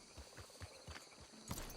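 Horse hooves clip-clop at a steady walking rhythm in Red Dead Redemption 2, close and moderately loud, with a brief higher burst near the end.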